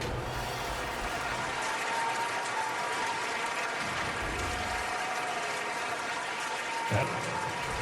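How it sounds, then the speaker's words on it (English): A basketball arena crowd in NBA 2K22 applauds and cheers during an All-Star name call in Portland, a broad, steady wash of clapping that holds at an even level throughout. "So how about a standing ovation from this crowd to Donnie G while his name was called?"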